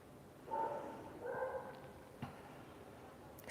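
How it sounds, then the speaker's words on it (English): A dog barks twice, muffled and somewhat distant, indoors behind a quiet room tone, then falls silent. "I'm sorry about the dog barking"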